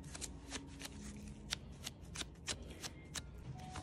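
Small repeated dabbing taps of tape pressed onto skin to lift stray eyebrow hairs, a quick irregular series of soft, close crisp ticks over a quiet background, with no talking.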